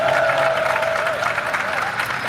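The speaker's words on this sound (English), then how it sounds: "Give a big round of applause" An audience at a Liverpool gathering applauds Professor Bentall with steady, dense clapping and some crowd noise. Faint voices and a tonal hum run through the applause.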